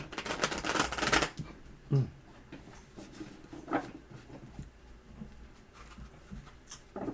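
A deck of tarot cards is shuffled on a table, quick riffling clatters loudest at the start and then lighter intermittent shuffles and taps, close by with no talk.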